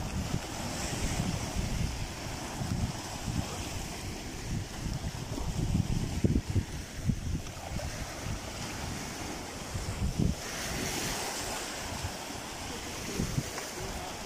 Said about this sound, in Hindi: रात से बहुत ज्यादा पानी की छल है,